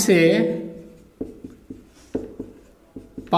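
Chalk or marker tapping and scratching on a classroom board during a maths lesson, several short spaced strokes after a brief spoken word at the start.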